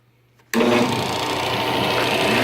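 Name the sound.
electric sander sanding MDF with shop vac dust collection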